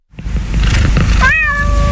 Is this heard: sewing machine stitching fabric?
no